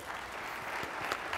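Steady applause from a conference audience welcoming a former newspaper executive editor, an even wash of many hands clapping at a distance, with no voices over it.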